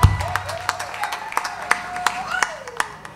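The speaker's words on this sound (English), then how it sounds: "give them another nice big round of applause for us" Live-music audience clapping between songs for a band, sharp scattered claps of moderate loudness over a steady ringing tone, without sustained cheering.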